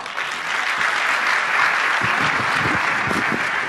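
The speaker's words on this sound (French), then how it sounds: "applaudissez-le pour moi" A conference audience claps for a man in the room, producing a full, sustained round of applause that grows slightly denser toward the end.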